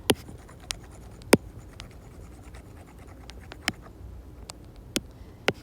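Quiet scratching and tapping of a marker or chalk writing and erasing on a board, with a few sharp taps scattered through.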